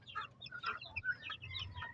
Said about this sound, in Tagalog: Ito na po sila mga kapanok, yung 10 na in-incubate natin.